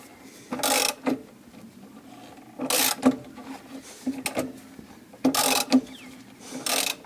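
Porsche 356C engine turned over by hand toward top dead center during a valve adjustment, giving four short mechanical ratcheting clicks spaced about two seconds apart, close and fairly quiet.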